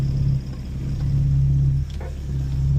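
A Ford MK2 Escort engine runs close by, a steady low rumble with a slight dip and rise in pitch as it idles, heard alone without talk.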